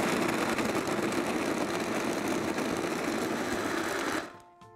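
A motorized stand or hand mixer blends a chocolate, caramel and peanut mixture, giving a steady, loud, continuous whir that holds evenly for about four seconds and then cuts off abruptly, leaving quiet.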